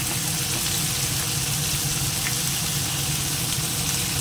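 Tomato frying in a pan, a steady, even sizzle with a watery hiss throughout, close and fairly loud, with no speech over it.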